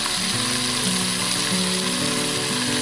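Partly frozen ground lamb browns in a Dutch oven, giving a loud, steady sizzle with a low humming tone running beneath it throughout.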